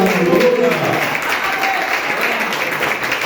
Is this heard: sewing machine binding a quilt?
no